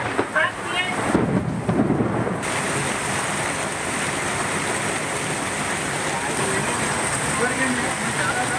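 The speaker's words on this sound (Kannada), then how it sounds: "ಧಾರಾಕಾರ ಮಳೆಯಾಗಿದೆ." Heavy rain pours on flooded Bengaluru roads, a dense, continuous roar of water that stays loud and steady from start to finish.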